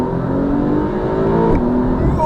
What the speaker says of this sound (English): I'm going to press this button now and you'll hear the car.